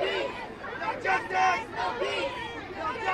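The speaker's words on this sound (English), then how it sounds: "See, the crowd's gotten larger now." A growing crowd chatters and calls out at a protest skirmish, a dense, steady babble of many voices with louder surges rising and falling.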